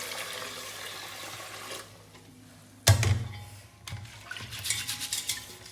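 Ration rice washed in water, first a steady running rush, then a sudden splash followed by irregular sloshing and swirling as the grains are rinsed by hand.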